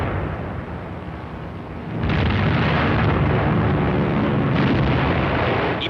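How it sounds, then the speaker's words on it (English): Bombs exploding over Coventry during a wartime air raid, heard as a dense, continuous roar of heavy blasts that swells noticeably louder after the first two seconds and stays loud to the end. "Der Bombenschütze löst die ersten Bomben."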